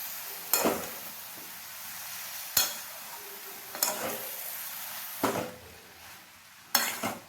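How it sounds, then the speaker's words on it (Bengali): Spinach being stirred together with vegetables in a pan, with a few sharp utensil knocks against the pan spaced a second or so apart over a soft, steady sizzle. "আবারও ভালোভাবে নাড়াচাড়া করে সবজির সাথে শাকটাকে মিশিয়ে দেবো"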